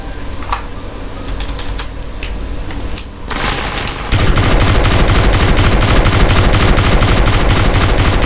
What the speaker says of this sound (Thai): เราจะโดนยิงเราต้องหลบกระสุนไปบ้างนะ